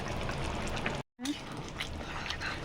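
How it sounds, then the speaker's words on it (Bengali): Water poured into a pan of jackfruit curry, a faint continuous trickling splash with a short break partway through, heard behind a quiet voice. "কষানো হয়ে গেছে, জল দিচ্ছি পরিমাণ মতো"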